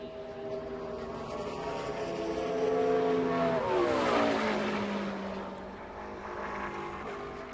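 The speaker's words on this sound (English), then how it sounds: "Come up to speed, take the green, and then keep it in check for one fast lap of qualifying here to make the field." Race cars accelerating and passing during a qualifying lap for the VFW 200, with engine whine rising in pitch, swelling loud as they pass near, then dropping in a Doppler sweep and fading.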